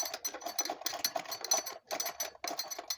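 A sewing machine stitches the handle of a fabric tote bag in quick, rattling runs of needle strokes, broken by short pauses, close and fairly quiet with no talk.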